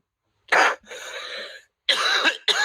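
Close, loud coughing in a series of harsh bursts with brief pauses between them, no talking.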